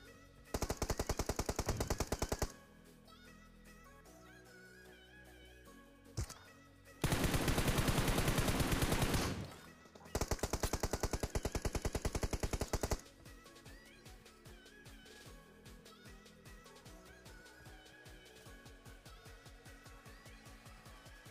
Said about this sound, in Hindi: मुझे पीछे से पड़ ली बहुत गोलियां।